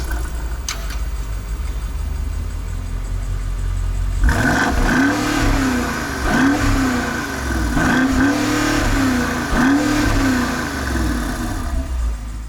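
A BMW 4.4-liter twin-turbo V8 in a 2020 three-row family SUV revs repeatedly, rising and falling in about four strong swells after a quiet idle, loud and close.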